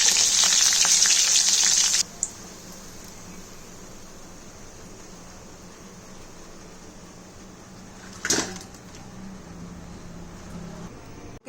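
Soya bean bajji sizzles in hot oil, a loud bright frying hiss for about two seconds, then a quieter steady sizzle continues with a brief clatter near the end.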